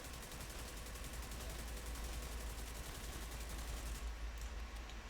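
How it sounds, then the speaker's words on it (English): Rapid automatic gunfire from an exotic weapon in The Division 2, fired steadily at a target in a dense, continuous burst that stops abruptly near the end. "I'm going to shoot a target for you guys real quick so you can see a little bit in action."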